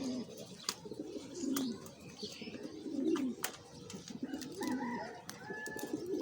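A sick pigeon coos in low, soft, repeated rolling calls close by, alongside faint rustling and a few sharp clicks.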